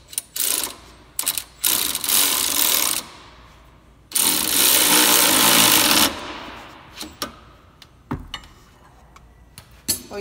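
Bursts of an impact wrench or power driver tightening a track bar bolt during a Rough Country 3.5-inch lift kit install on a Jeep JL, several loud buzzing runs of about a second or two separated by quieter clicks and handling noise.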